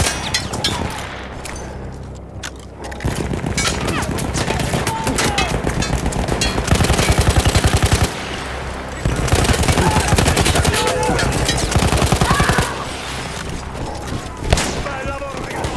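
Sustained machine gun fire in the World War I video game Battlefield 1, with loud rapid bursts running almost continuously and brief pauses between them, mixed with explosions and shouting voices in the background.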